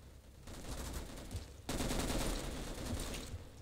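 Rapid gunfire bursts in a Roblox shooting game, starting after a short quiet moment and growing louder and denser as the automatic fire continues to the end.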